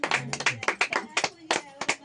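Hands clapping at a family celebration, a quick irregular run of claps close by with a voice murmuring underneath.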